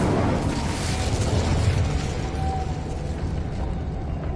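A spoken Incendio fire spell is cast, giving a dense, roaring burst with a low rumble that stays loud throughout before easing slightly, and no voices heard.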